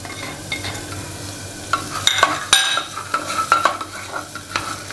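Roasted broken wheat daliya is stirred with vegetables in a pan over low flame, producing a soft sizzle under scraping spatula strokes and a cluster of metallic clinks midway.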